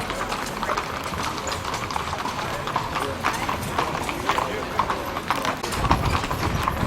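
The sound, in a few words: horse hooves clip-clopping during a horse ride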